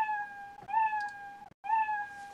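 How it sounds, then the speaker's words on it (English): A cartoonish cat meow sound effect played by Raspberry Pi code at the press of an arrow key. Two clear, tonal meows, loud and alone, separated by a brief silent gap. "if I press the arrow key, you can hear the meow sound"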